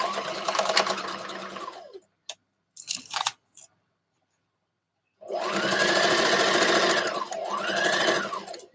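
A sewing machine runs in fast, steady bursts while stitching a dress seam at a 5/8 inch allowance, with a long burst, brief stuttering starts, a pause, then two more sustained runs, close and loud.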